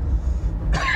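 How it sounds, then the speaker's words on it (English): A man gives a single short, rough cough, preceded by a low rumbling background hum. "Did you hear me cough then?"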